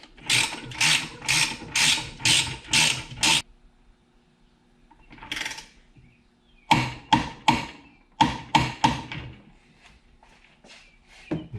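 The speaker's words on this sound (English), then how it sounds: "you can disconnect your ratchet strap and then tighten the base nut into place" Base nut being tightened on a Showa 49mm conventional closed-chamber fork cartridge from a 1996-1998 Suzuki RM125/RM250, heard as close, rapid bursts of ratchet clicking in two separate runs with short pauses between them.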